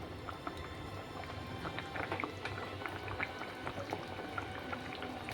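Fried eggs being gently stirred into a bubbling tamarind egg curry in a pan, a steady soft simmer with scattered light clicks and scrapes throughout.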